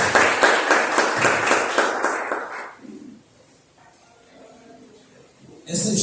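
A church congregation claps together during a service, a dense and steady burst of applause for a few seconds that then dies away into a quiet room with faint murmurs.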